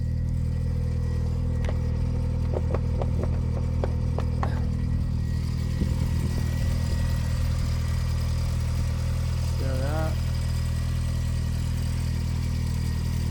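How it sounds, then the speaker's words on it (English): A Lotus Elan engine idling with the bonnet open, a steady low hum with a faint ticking clatter, a few sharp knocks early on and a brief short remark spoken over it. "Engine is ticking over quite nicely."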